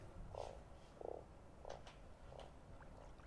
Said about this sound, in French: j'ai l'impression d'entendre une grenouille aussi